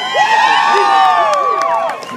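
High school marching band review at a beach parade, with a crowd cheering and whooping loudly and steadily, many voices overlapping in sustained high shouts close by.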